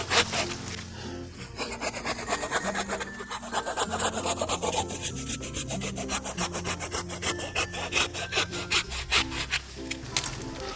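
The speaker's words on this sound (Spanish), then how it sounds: "las cuales pues vamos a sacar con la ayuda de este serrucho" A handsaw cuts through the thick root mass of an air-layered lemon tree with fast, steady back-and-forth strokes, loud and close, over background music.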